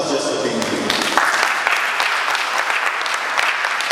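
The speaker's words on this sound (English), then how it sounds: "Give yourselves a round of applause just for being here." Audience applause at a community radio event, steady dense clapping from a crowd with voices mixed in, sustained at an even level throughout.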